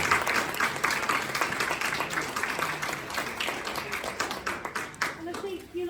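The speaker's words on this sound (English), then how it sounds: "Should we do another round of applause?" Steady audience applause at a healthcare preceptorship training session, a fairly quiet, continuous patter of many hands clapping throughout, thinning toward the end.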